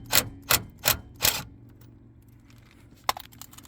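A 12mm socket wrench ratchets against a bolt on a third-generation Camaro door light switch: four quick, sharp ratcheting bursts close together, a pause, then one faint click, with no talking.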